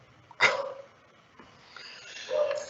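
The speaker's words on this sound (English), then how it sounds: "So how's that dog coming through for you guys?" A recorded dog barks and whimpers through a loudspeaker: one sharp bark, then a quieter gap and a drawn-out whine rising toward the end, sounding thin and boxy.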